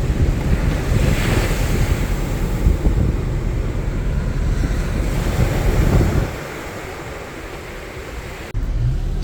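Ocean waves break and wash onto a steep beach on the South Australian coast under heavy wind buffeting the microphone, then the roar drops away abruptly near the end.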